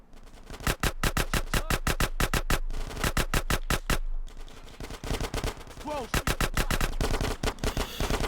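Rapid automatic submachine gun fire in GTA San Andreas, loud bursts of repeated shots broken by short pauses, with game background sound between volleys.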